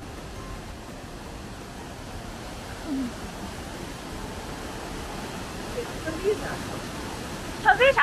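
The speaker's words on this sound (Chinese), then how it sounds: "看这边这个河水有多大" A large, swollen green river rushes steadily as a constant broad roar, with a few faint sounds over it and a brief louder patch near the end.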